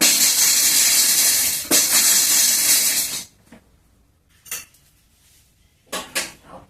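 A metal spoon scraping and clanking inside a pan as cucumber chutney is stirred with salt, a loud, continuous clatter for about three seconds, followed by a few sparse, brief clinks.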